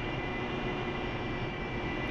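Loud, steady roar of an F-5 jet engine in the DCS flight simulator, a dense continuous rush filling the short stretch with no voices over it.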